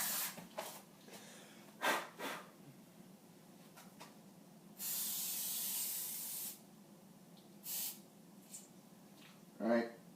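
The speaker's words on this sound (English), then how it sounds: "We'll spray with some non-stick cooking spray." Non-stick cooking spray sprayed from a can into a cake pan, a single sustained hiss lasting nearly two seconds amid quiet handling noises and short breathy bursts.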